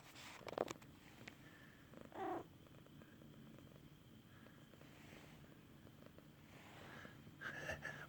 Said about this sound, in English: Look who's purring.